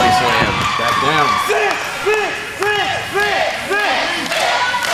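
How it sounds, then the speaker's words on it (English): Wrestling crowd at a professional wrestling show in Hanahan cheering and chanting in a loud, rhythmic pattern of repeated rising calls, with a commentator's voice mixed in. "Crowd's really behind Sixx right now"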